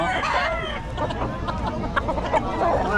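Chickens at a roadside stall in Bocaue cluck and squawk continuously in a dense, busy flock, with overlapping calls close by and faint background chatter.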